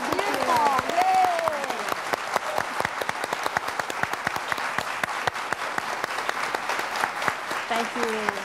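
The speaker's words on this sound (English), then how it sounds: "I think we should applaud her quilts." Audience applause at a quilting demonstration, continuous dense clapping with voices and a cheer over it at the start, carrying on steadily to the end.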